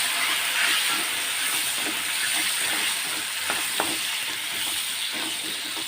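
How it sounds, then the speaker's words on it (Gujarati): Gunda berries added to mustard seeds and fenugreek frying in oil, a steady loud hiss and sizzle throughout with a few faint pops and clicks of stirring, no voices. "સરસ રીતે રાઈ અને મેથી આપણી ચટકવા લાગે ને ત્યારબાદ આપણે જે આપણે ગુંદાને આ રીતના બી કાઢેલા છે ને તેને આપણે એડ કરીશું અને સરસ રીતે મિક્સ કરી લઈશું"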